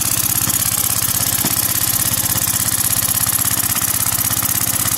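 Briggs & Stratton Model Y engine with a loose gas tank running flat out at about 1800 RPM, a loud, steady, rapid chugging close by with no talk.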